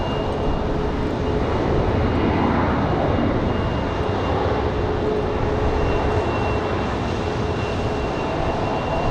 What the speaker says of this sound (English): A smooth touchdown there for the A319 from Boston.